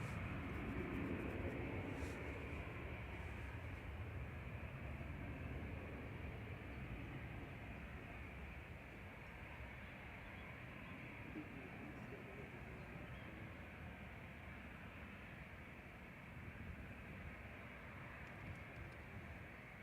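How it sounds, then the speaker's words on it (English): An Emirates Airbus A380 from Dubai approaches to land at Manchester Airport, its steady broadband jet roar holding at moderate distance throughout with little change. "Decent crab angle on the A380 coming in."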